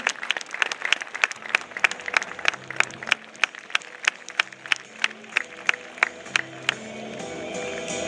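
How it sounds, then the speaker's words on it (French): An audience at a military dressage demonstration claps in a steady rhythm, evenly spaced beats carrying on for several seconds as crowd noise swells toward the end. "Sous vos applaudissements."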